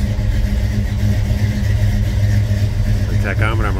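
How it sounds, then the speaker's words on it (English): A warmed-up 1979 Ford Bronco engine, freshly restored, runs at a steady mid-pitched idle with a low rumble, loud and close, and a voice briefly speaks near the end. "She's already up to temperature, so that's how she starts"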